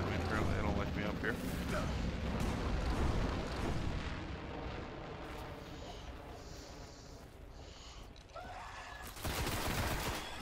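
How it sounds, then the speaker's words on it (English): Heavy sustained barrage from an enemy ship firing on the player in Destiny: The Taken King, a dense rumbling roar of explosive blasts that thins midway and surges back loud near the end, with speech mixed in. "There's a ship firing at me."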